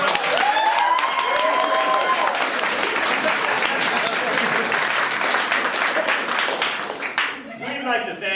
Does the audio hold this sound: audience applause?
yes